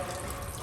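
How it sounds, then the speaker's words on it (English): A steady, faint trickle and hiss of water seeping from a newly cleared shop floor drain line, continuous and close. "it's finally leaking a little bit of water"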